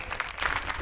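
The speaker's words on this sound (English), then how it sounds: "welcome the students of class 9 with a big round of applause" Brief burst of audience applause at a school feast day celebration, a crowd clapping in a steady, moderately loud patter.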